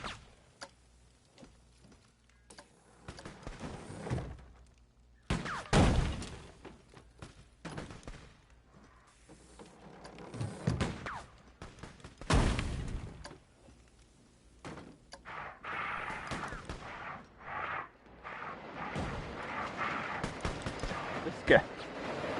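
Dynamite explosions blasting through a mountain in the Planet Coaster console game, a few loud deep booms several seconds apart alongside sharp bangs and clatter, with someone talking throughout.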